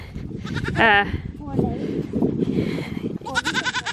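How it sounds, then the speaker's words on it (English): A baby goat bleats in short wavering cries, close by, with a shaky bleat early and another near the end, mixed with voices talking and handling noise. "So we're gonna pull our baby goat back inside."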